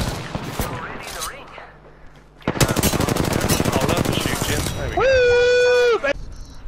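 Automatic and rapid gunfire from the Apex Legends battle royale game, loud and dense in a sustained burst, followed by a sharp rising electronic tone, with players talking over the action.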